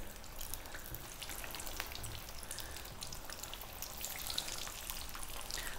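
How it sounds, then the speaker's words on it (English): Spiced aloo tikki potato cakes fry in oil, giving a soft, even crackle and sizzle with scattered pops that run steadily throughout without voices. "And you can use any oil you want to fry them in."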